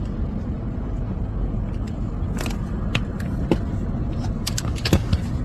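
Cars and trucks, including SUVs like Escalades and Yukons, pulling out and driving off on a Memphis street, a steady low road rumble with a few faint passing bursts, no talking.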